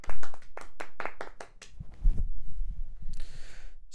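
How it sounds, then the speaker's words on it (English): A small round of applause from a few people on a football podcast: about eight quick, close claps over a second and a half, then fading into low rumbling handling noise and a short hiss. "Give them a little round of applause."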